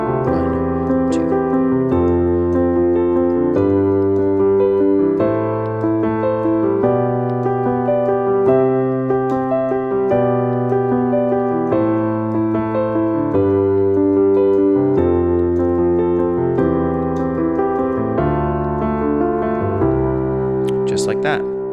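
Piano chords played in a steady repeating rhythm pattern, sustained and full, continuing for about twenty seconds with no voices.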